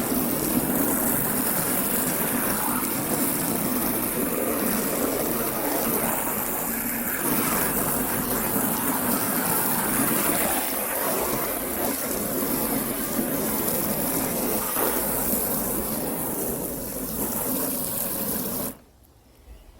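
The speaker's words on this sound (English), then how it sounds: "I'm going to rinse it again and see how it comes out" Running water rinses a large landscaping stone outdoors, a steady, broad rushing splash that continues evenly for most of the time and then cuts off abruptly near the end, with no talking.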